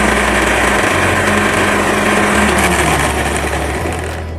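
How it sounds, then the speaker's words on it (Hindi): Electric grinder whirring loudly and steadily as it blends red chilies, soy sauce and vinegar for a chicken shawarma sauce, with a high motor whine and shifting low hum that winds down at the end. "और इसमें 3 चम्मच सिरके के शामिल करके अब हम इसे ग्राइंड कर लेंगे।"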